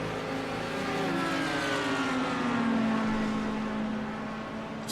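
Audi and BMW GT3 race cars accelerate side by side in a drag down a street circuit straight at Long Beach, a loud sustained engine roar with pitch climbing and shifting as they run flat out.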